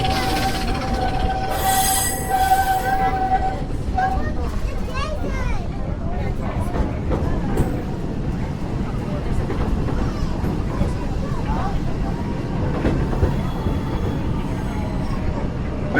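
Big Thunder Mountain mine train at Walt Disney World rattles and rumbles with a steady, loud low roar, a squealing tone in the first few seconds and continuous clattering throughout, with voices faintly present.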